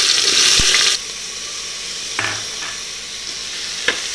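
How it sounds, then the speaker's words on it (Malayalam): Finely chopped onion dropped into hot coconut oil in a pressure cooker for a Kerala-style squid roast, a loud burst of sizzling at first that settles into a steadier frying hiss with a few utensil clinks. "ഇതിലേക്ക് നമ്മൾ പൊടിയായിട്ട് അരിഞ്ഞ ആ സവാള ഇട്ട് കൊടുക്കാം."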